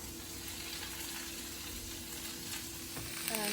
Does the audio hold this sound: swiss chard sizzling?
yes